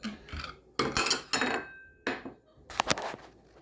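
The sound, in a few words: egg rolls being placed in a pan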